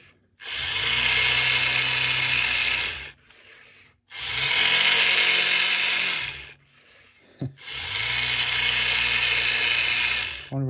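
A Roundhouse boxcab track cleaner model locomotive runs noisily along the track, its cleaning pads rubbing the rails. Three loud, sustained bursts of harsh grinding, buzzing rub are separated by short quiet gaps, close and with no voices.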